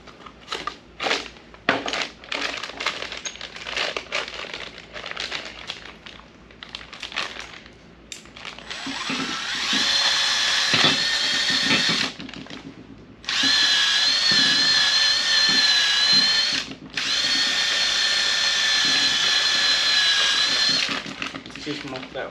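A power drill or impact driver whirs in long sustained bursts, close and loud, after a stretch of clattering handling noises and talk, during work on a vehicle's ball joints and tie rods.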